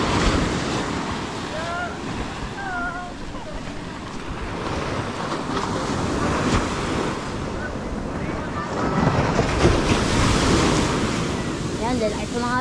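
Big ocean waves surge and wash steadily around a fishing boat at sea, a broad roaring surf mixed with gusting wind noise on the microphone, with a brief voice in the background.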